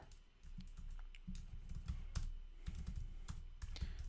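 Code is typed on a computer keyboard in a steady run of soft, crisp keystrokes over a quiet room hum, fairly faint and without speech.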